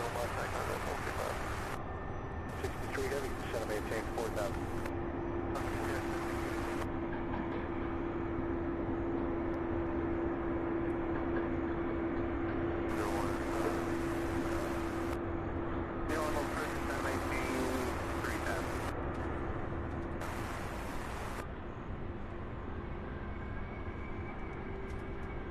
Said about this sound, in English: this is a, let's see, a 767 coming out of Detroit, Michigan, UPS Flight 1481, an 11-year-old aircraft